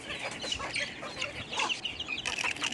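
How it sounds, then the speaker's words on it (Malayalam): Free-range native chickens cluck and chatter in a busy overlapping flock as they are let out in the morning, fairly faint and close, with no talk. "കോഴികളെ ഞാൻ പുറത്ത് വിടും."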